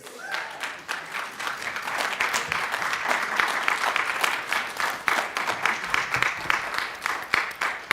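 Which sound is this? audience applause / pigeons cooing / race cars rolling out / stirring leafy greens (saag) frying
audience applause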